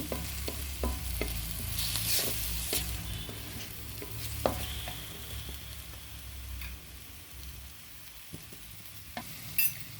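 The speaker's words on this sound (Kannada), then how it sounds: "ಈ ಥರ ಈರುಳ್ಳಿ ಹಸಿಮೆಣಸು ಇದ್ರ ಜೊತೆ 2 ನಿಮಿಷ ಫ್ರೈ ಮಾಡಿದ್ರೆ ಚೆನ್ನಾಗಿ ಟೇಸ್ಟ್ ಬರುತ್ತೆ" Onion and green chili frying in a pan at home, a steady low sizzle with scattered ticks and scraping stirs throughout, close and moderately loud, no talking.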